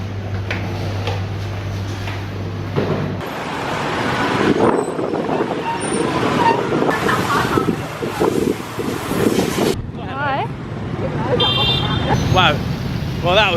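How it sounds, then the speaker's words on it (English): Riding on the back of a scooter through Ho Chi Minh City traffic, with wind buffeting the microphone over the rumble of nearby engines and passing vehicles, horns sounding at times and voices talking throughout. "Our first experience of Ho Chi Minh traffic on the back of a scooter."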